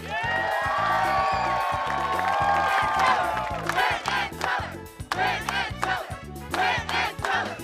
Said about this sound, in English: you are applauding like you've never applauded before